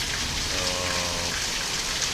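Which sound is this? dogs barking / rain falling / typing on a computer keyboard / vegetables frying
rain falling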